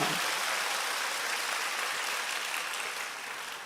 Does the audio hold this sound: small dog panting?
no